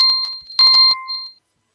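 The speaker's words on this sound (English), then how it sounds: "I think the bell is ringing." An electronic bell rings in short bright tonal bursts, a brief cluster of ringing pulses that stops abruptly and leaves silence, loud and alone.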